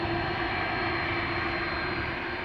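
KLM Airbus A330-200 jet departing Amsterdam Schiphol Airport for Sint Maarten, a loud, close, sustained engine roar with a droning tonal whine, steady throughout and free of voices.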